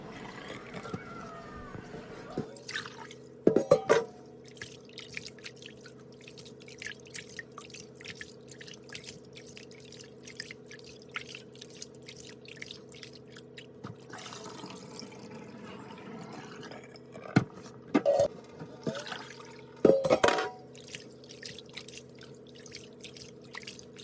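Rice being rinsed by hand in water for Lao pa jao, with faint, quiet sloshing and dripping throughout and a few brief louder splashes, with no talking.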